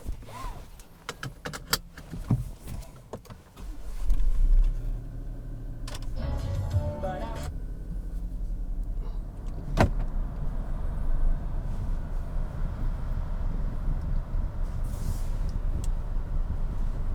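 A 2020 Buick Encore GX Essence is heard inside at night, with a few clicks and rattles and a short shifting sound at first, then a steady low cabin rumble of the car rolling along.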